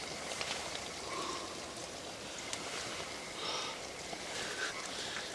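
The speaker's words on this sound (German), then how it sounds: "mein Wasser kocht gerade, höre ich" Water boiling in a pot on a camp stove in a winter forest at minus twelve degrees, a soft continuous bubbling hiss with small pops, faint and steady, no talking.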